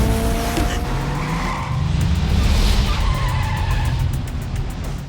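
Loud, continuous tire squeal and skidding from cars in a film car chase with a Hummer in pursuit, engines roaring beneath the screech for several seconds.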